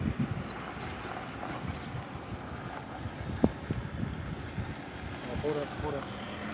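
Wind blowing outdoors, heard as a steady low rumble and buffeting against the microphone, with faint voices underneath.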